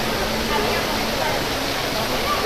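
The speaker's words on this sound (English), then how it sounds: "but oh, here's the waterfall." An indoor waterfall in Toronto's Eaton Centre mall gives off a loud, constant broadband rush that fills the whole space, with a faint murmur of the surrounding mall beneath it.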